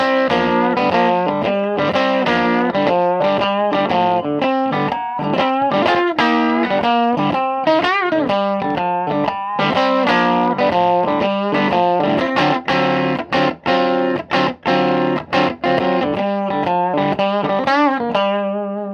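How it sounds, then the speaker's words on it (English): Electric guitar on a humbucker pickup through a Carr Rambler 2x10 combo amp, played with mild overdriven breakup; chords and single notes ring out with some effect shimmer, loud and close, with no talking. "That's the difference between the single coil and the humbucker with a little bit of breakup, and you can hear really nice breakup in this amp."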